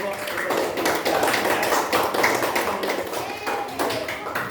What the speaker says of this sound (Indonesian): Tepuk tangan untuk kelompok ekosistem hutan